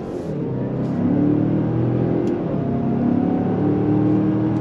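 A 2022 Mazda CX-5 Turbo Signature SUV pulling hard out of a right-hand bend, heard from inside the cabin as a steady loud engine drone rising in pitch through a gear, with no one speaking.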